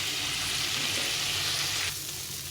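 Chickpea and papaya curry sizzles steadily as it fries with spices in a pan, a dense continuous hiss heard up close that eases slightly near the end, with no one speaking.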